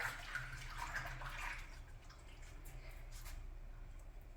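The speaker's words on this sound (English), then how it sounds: "I'm gonna wash my hands quick here" Hands washed under a running tap in a home kitchen, a faint, steady splashing trickle with light water noise that thins out over a few seconds, no talking.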